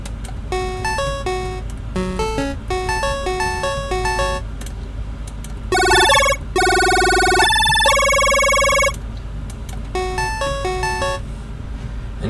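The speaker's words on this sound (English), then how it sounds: "I really love adding a little arpeggio here" A synth arpeggio with a short, plucky attack plays quick repeating note patterns, bright and clear, with a denser, louder run of sustained tones in the middle before the pattern returns.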